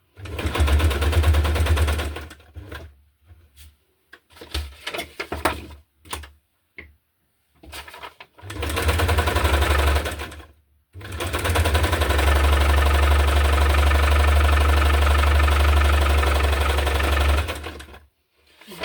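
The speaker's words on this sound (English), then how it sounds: "now I will sew on" A sewing machine stitches through a hardcover junk journal in loud, rapid mechanical bursts, some short and stop-start and one long steady run, separated by silent pauses.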